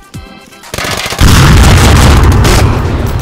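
A grenade blast in the VR shooter Onward, a loud close boom that swells into a sustained roaring rumble after a brief lead-in of gunfire-like pops.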